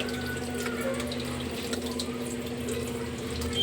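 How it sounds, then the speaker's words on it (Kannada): Water streams steadily into a pot of vegetable sambar in a home kitchen. The pour makes a continuous, close, liquid rush with slight splashing for several seconds. "ಇನ್ನೂ ಸ್ವಲ್ಪ ನೀರು ಹಾಕೋತೀನಿ."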